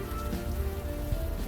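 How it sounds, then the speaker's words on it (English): Steady rain pattering on a city street in the adventure game Unavowed, a continuous dense hiss with a low rumble underneath, no voices. "You're walking the streets in the rain"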